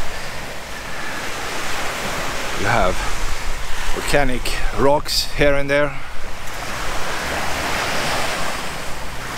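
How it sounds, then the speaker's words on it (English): Ocean surf at Haleiwa Alii Beach on Oahu, Hawaii washes in a constant loud roar with heavy wind buffeting the microphone, while someone talks over it in the middle. "behind it we have this fantastic ocean"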